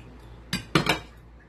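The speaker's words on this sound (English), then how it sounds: "So now we mix up everything together." Metal utensils clink against a bowl in three quick sharp knocks while mixing a quinoa, avocado and black bean salad, close and clear with no talk.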